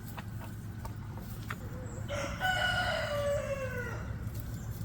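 Rooster crowing once among chickens on a northern homestead, a clear mid-distance crow rising and falling, with soft clucking and low background hum around it and a brief spoken word.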